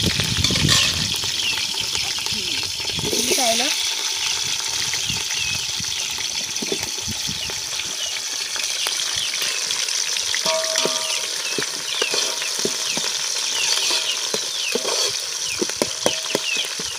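Green chillies sizzle and fry steadily in a pan as the first step of a chicken biryani cooked outdoors in a mango grove, a continuous crackling hiss with occasional clinks and stirring throughout.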